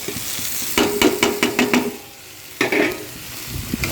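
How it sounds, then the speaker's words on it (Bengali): Prawns tossed into a hot pan with taro stems, frying with a loud crackling sizzle broken by rhythmic scraping strokes of a spatula, a pause, then another burst of stirring close by. "এবার আমি চিংড়ি মাছটা দিয়ে দেবো।"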